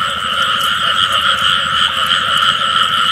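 Frogs call nonstop from a flooded rice field in the rain, a loud, dense, unbroken croaking chorus with no speech over it.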